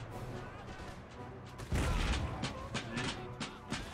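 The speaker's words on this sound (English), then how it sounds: "Lots of bouncing round shot." Round shot cannon fire in Empire: Total War during a battle, a heavy boom followed by a rapid series of scattered thumps and cracks, loud against a rumbling battlefield background.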